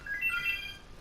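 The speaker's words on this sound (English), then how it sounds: "and that's my phone in my house going off." A phone rings somewhere inside a house, a faint electronic ringtone of short high tones heard briefly in the background.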